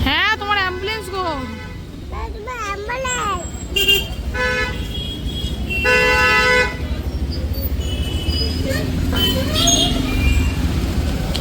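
Jammed street traffic with car and bus horns tooting repeatedly, some in wavering bursts and others as longer blasts, over a constant engine rumble, with people talking in the clip.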